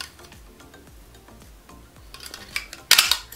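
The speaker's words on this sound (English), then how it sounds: "so then you get your cutlery in here" Stainless steel cutlery handled up close, with soft metallic ticks and clinks building to a sharp, bright clatter near the end.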